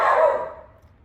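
A dog barks once at the trash man, a single sharp bark close by that quickly fades into quiet.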